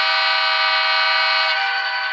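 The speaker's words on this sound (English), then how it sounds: "is the horn going to sound accurate?" An Atlas HO scale GP40-2CU model locomotive sounds its horn through a sound decoder, one steady, thin, bright electronic blast held for about two seconds, close and alone.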